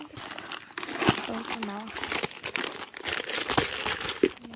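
Thin plastic wrap around a toy unicorn plush crinkles and rustles steadily up close as the toy is unboxed, while someone speaks briefly over the handling noise.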